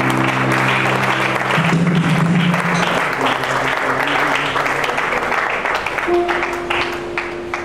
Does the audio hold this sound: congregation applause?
yes